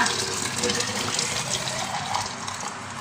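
Hot water pours steadily over jars to rinse and scald them, making a continuous close splashing gush that carries on throughout.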